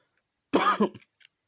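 One sharp cough close to the mic, with a brief throat-clearing rasp after it, surrounded by silence.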